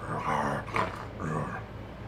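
A person's voice mimics a dog's bark in a couple of gruff, drawn-out bursts, close and fairly quiet.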